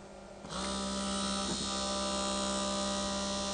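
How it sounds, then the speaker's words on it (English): A small electric motor driven by a PWM circuit starts up with a click and then settles into a steady, high-pitched whine and buzz. It is close and fairly quiet, running alone without speech. "so now the motor is running"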